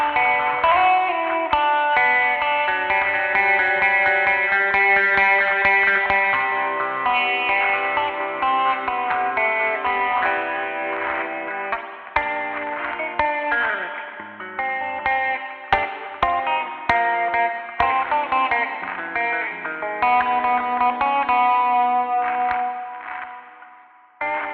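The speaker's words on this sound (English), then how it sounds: "Destruct gives you that radio transmission failure" Clean electric guitar plays melodic picked and fingerpicked phrases through a Source Audio Artifakt Lo-Fi pedal's Destruct effect, which adds wavering, warbling dropouts and glitchy crackles like a failing radio signal, steady and moderately loud throughout.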